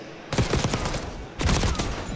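Bursts of rapid gunfire in a competitive shooter video game tournament match, two loud clusters of overlapping shots with a short gap between them, close and sharp.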